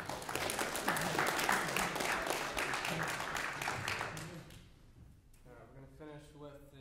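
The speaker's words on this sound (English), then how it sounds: "Lauren, give yourselves a round of applause." Audience applause after a senior recital at a university, a dense steady clapping from a full room that carries for about four seconds, then thins and fades, with a voice beginning to speak as it dies away.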